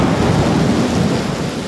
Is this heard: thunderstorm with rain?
yes